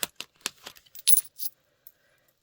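A £2 coin drops into a cash stuffing binder, giving a quick run of sharp metallic clinks and rattles that settle into quiet, close and fairly loud with no talking.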